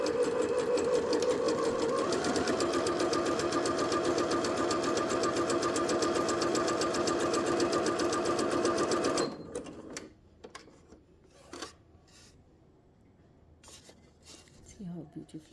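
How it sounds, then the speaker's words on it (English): A Janome 5100 computerised sewing machine stitches a zigzag in a steady, loud, continuous whir for about nine seconds, then stops abruptly, leaving faint scattered clicks and handling noises. "See how beautifully it's doing."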